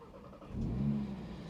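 A 2025 Audi RS3 engine cranks and catches, rising into a steady idle that holds fairly loud and close.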